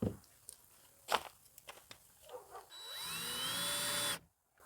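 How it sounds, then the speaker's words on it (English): A power driver drives short screws into a wall at an off-grid compost toilet. A few scattered clicks and knocks lead into a rising, then steady motor whine of about a second and a half, which cuts off abruptly. "twist it around, and screw it to the wall. Some short screws so I don't go through the other side."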